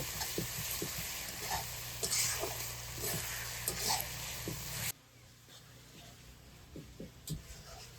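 Pork gravy cooking in a pot over a wood stove sizzles and bubbles while a spoon stirs it in scattered knocks and scrapes; the frying noise drops off abruptly midway, leaving quieter stirring sounds.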